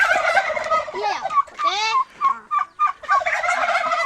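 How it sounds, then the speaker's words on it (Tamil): Several turkeys gobble loudly and repeatedly, their warbling calls overlapping at close range, with a brief spoken word in between. "இங்க வந்து பார்த்தீங்கன்னா வான்கோழி இருக்கு."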